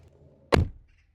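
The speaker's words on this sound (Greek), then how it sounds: "Θα ακούσετε λοιπόν τώρα πώς ακούγεται το κλείσιμο της πόρτας στην E32." A BMW E32 car door swings shut with a single solid, low thunk, close and clear against a quiet background, followed by a brief fade to near silence.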